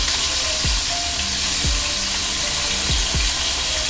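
A sirloin steak sizzles loudly in a hot pan, a dense continuous frying hiss close up. A few soft low thuds cut through it, and no one speaks.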